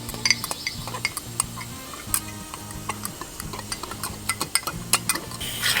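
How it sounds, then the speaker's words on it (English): Milk and cornstarch stirred together with a spoon, quick irregular clinks and taps against the container over a low steady background hum, no talking. "We'll mix that together and put that in on the corn"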